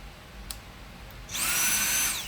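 A Dyson V7 cordless vacuum at minimum power starts up after a quiet moment and settles into a steady, close, high-pitched whirring whine.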